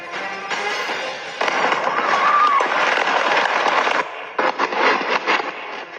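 A fire at a fireworks store in Tabuk, Kalinga sets off firecrackers, a dense loud crackling burst of rapid pops that rumbles on for several seconds, breaks off briefly and then flares again.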